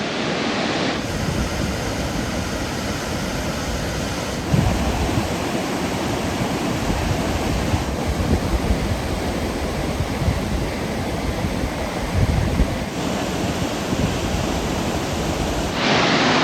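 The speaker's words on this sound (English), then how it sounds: "Just check out the power of these waterfalls here" Powerful waterfalls at Mount Robson roar in a steady, loud, broadband rush that fills the whole clip, with no voices over it.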